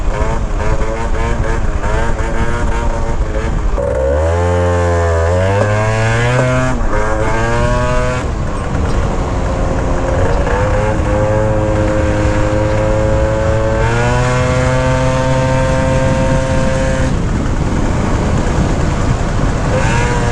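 A Gilera Runner 180 scooter engine revs up repeatedly, its whine rising in pitch as it accelerates, steady and close throughout with no pauses.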